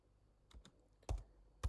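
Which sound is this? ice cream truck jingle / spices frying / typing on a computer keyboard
typing on a computer keyboard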